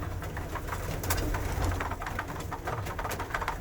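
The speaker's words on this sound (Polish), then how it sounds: "Te gołębie są bardzo zadbane." Pigeons coo softly and continuously, low murmuring calls close by with faint rustling in the background.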